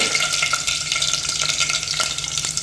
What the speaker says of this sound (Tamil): வெடித்தோடனே அதில் கடுகு தாளிக்கிறேங்க